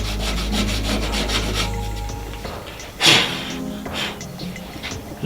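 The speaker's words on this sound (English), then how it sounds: "Just scuffing it up a little bit." Metal bodywork being scuffed by hand ahead of primer, giving a steady rasping rub with a sharper scrape burst about three seconds in, close and fairly loud.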